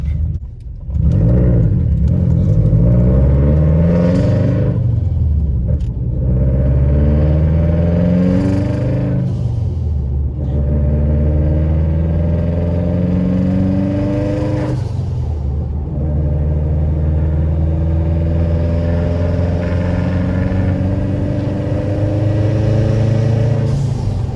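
A Subaru WRX engine revs hard during a launch and roars loudly, pitch rising and falling through repeated accelerations, with a constant heavy rumble throughout.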